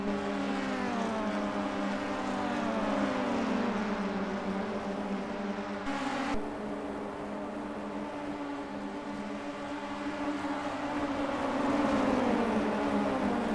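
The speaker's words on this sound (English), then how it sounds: "You can hear the rev limiter taking action." Clio Cup race car engine on the Truxton circuit, a steady high buzzing drone that bounces against the rev limiter, heard faintly from a distance without any voices.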